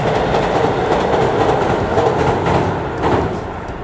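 A rapid passenger train on the Kansai Main Line in Japan rushes past close by at a level crossing, its wheels clattering rhythmically over the rails with a continuous rumbling roar that begins to fade at the end.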